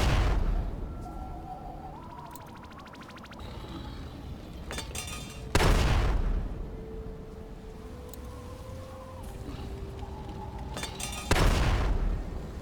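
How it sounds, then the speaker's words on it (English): Incendiary grenades go off against a Mirelurk King in the Fallout video game: two heavy, booming blasts several seconds apart, each with a rumbling fiery tail, between quieter stretches of crackling combat noise. "Let's throw some incendiary grenades at him."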